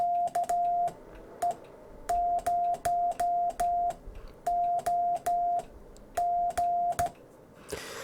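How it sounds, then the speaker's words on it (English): A series of steady electronic Morse code (CW) tones keyed on and off in short and long bursts, a rhythmic dot-dash pattern, clear and close with no voices. "let me send a couple Morse code characters"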